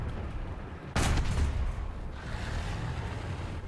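A tank cannon fires once in War Thunder, a loud boom with a brief rumbling tail over steady engine and battlefield noise, no talking.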